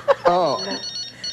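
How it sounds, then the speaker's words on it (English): A telephone rings in short repeated electronic trills, moderately loud and steady, following a brief spoken exclamation at the start. "Dude, you got a phone ringing."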